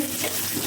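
Brief burst of dense frying noise, a constant hissing sizzle of hilsa fish cooking in oil, close by.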